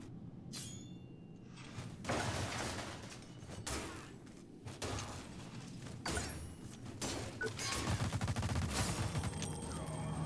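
Repeated bursts of gunfire in The Surge 2 video game, loud and close, with volleys recurring every second or two against a dense rumbling backdrop of game noise.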